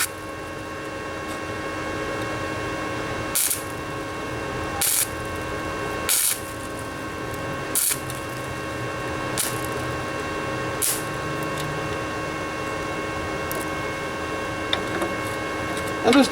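Flux core welding of back-and-forth butt-weld patches on a Ford Ranger passenger rocker panel: a steady crackling hiss broken by short pauses every second or so, close and fairly loud.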